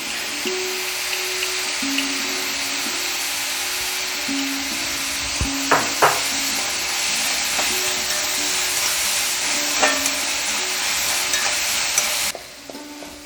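Onions sautéing with salt in a pan for chakka bonda: a loud, continuous sizzle with a utensil stirring and scraping, a few sharp clicks and knocks, before the sound drops away at the end.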